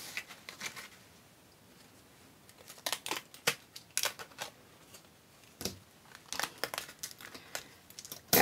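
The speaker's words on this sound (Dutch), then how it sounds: "Maar het helpt je ook om je mallen makkelijk van het papier af te halen." Detailed floral metal cutting dies being peeled slowly off paper, giving soft intermittent crinkles and light crackling rustles that come in short close bursts with quiet gaps between, no voices present.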